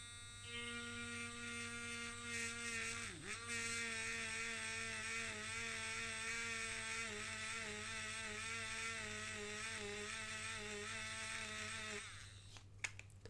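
A battery-operated electric eraser's small motor whines steadily for about twelve seconds, with a brief dip in pitch early on, then cuts off.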